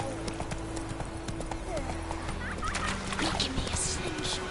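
Hooves of Roach the horse clip-clopping at speed in The Witcher 3, a steady rhythmic gallop under game ambience, with brief bird-like calls and voices talking over it.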